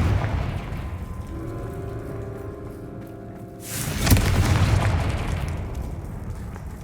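Confringo fire blast spell in the Hogwarts Legacy video game exploding with a whooshing burst that swells into a loud, rumbling boom and lingering roar after a quieter stretch.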